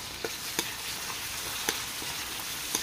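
Pork liver sautéing with onion and garlic in a pan gives a steady soft sizzle, with a few sharp clicks of a spatula stirring, and no voices.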